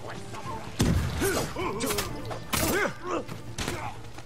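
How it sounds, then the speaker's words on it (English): A sticky bomb going off in the samurai action game Ghost of Tsushima, heavy thuds and crashing impacts layered with metallic clashes and creaks, loud and close. "Hey, have fun with this sticky bomb."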